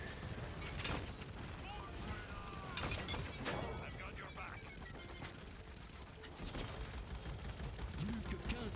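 Gunfire in the Paladins video game: a quick run of sharp shots and clattering weapon bursts, close and fairly loud, layered over steady game noise with a voice talking.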